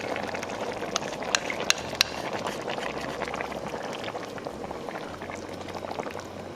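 Thick tomato sauce pouring into a large pot of carne guisada with softened tomatoes and onions, a steady wet glugging and bubbling wash with a few sharp splashes, close and continuous, no talking.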